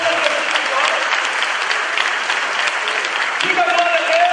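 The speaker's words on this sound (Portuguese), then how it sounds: "Aplauda Jesus bem forte." A church congregation claps loudly and continuously in a dense, steady wave of applause filling the room, with a voice rising briefly over it near the end.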